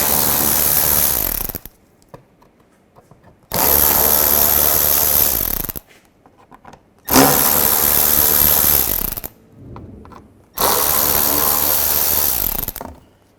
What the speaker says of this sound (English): Take these screws out as well.